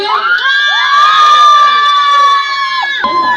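A group of people cheers together at a restaurant opening in Nandyal, making one loud, sustained unison shout that lasts about three seconds and then breaks off. No clear clapping stands out.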